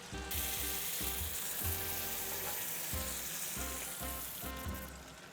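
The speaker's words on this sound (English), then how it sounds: "We're able to give it a better sear without it really affecting the internal temperature." Picanha steak searing in a hot pan, a loud steady close sizzle with crackling and rhythmic pulses from repeated stirring or basting over several seconds, no voices.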